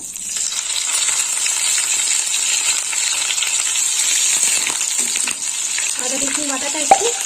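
Ginger-garlic paste and three bay leaves sizzle in hot oil for a pointed gourd (potol) dish, a steady loud crackling frying hiss with brief metallic stirring clinks near the end.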